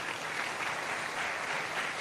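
An audience applauds at a Saturday-night television show in a brief, dense burst of clapping that stays loud and even throughout, with no voices above it.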